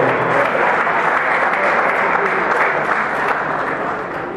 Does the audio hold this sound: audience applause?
yes